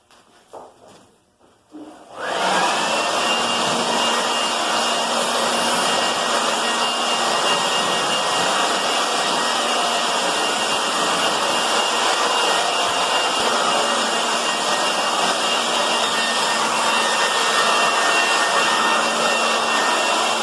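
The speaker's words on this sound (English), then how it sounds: "So now just gonna take the trusty old blower and get it all cleaned out." A blower starts up and runs as a loud, continuous roar with a steady high whine, used to clean out a chicken coop in humid South Texas, with no talking over it.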